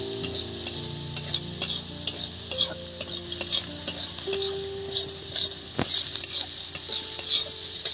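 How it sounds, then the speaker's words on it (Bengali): Chopped onions frying in a pan for a Bengali mustard paste dish, a constant close sizzle with spatula scrapes and clinks against the pan, plus faint tonal background hum, no talk. "এবার এই পেঁয়াজ কুচি দিয়ে দিলাম বন্ধুরা"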